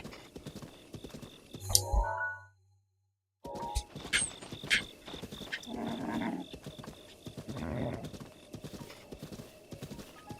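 Royal horse in The Legend of Zelda: Breath of the Wild, with steady clip-clop hooves on ground, a short whinny near the start, then a brief silent gap before the hoofbeats resume with game sounds around them.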